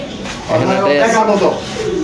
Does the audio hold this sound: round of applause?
no